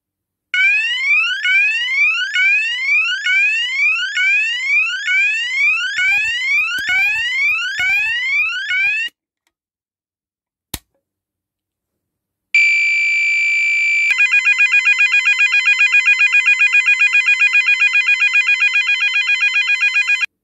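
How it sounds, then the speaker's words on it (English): A newly installed alarm sounder is tested, first with a run of rapid rising whoop tones, then silence and a click, then a loud continuous steady electronic tone. "There's the new Sounder, and let's test it."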